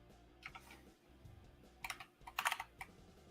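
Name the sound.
typing on a computer keyboard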